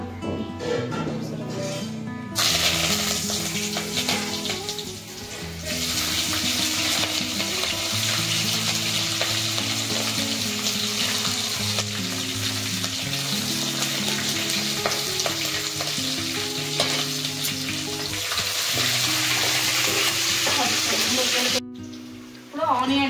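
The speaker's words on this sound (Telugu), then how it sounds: "అందులో కొంచెం బ్రౌన్ కలర్ వచ్చాక ఇప్పుడు కొన్ని కర్రీ లీవ్స్, పచ్చిమిర్చి, ఆనియన్స్ యాడ్ చేసుకోవాలి" Curry leaves, green chillies and onions frying in hot oil for a puri meal, a loud continuous sizzle with bursts of crackle and the clatter of stirring throughout.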